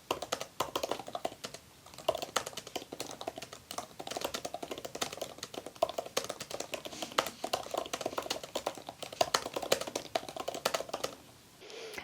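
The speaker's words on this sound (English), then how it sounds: "So I'll do a quick typing test for you guys so that way you have an idea." Fast, continuous clicking of keys being typed on a gold M1 MacBook Air laptop, close and fairly quiet, with no talking.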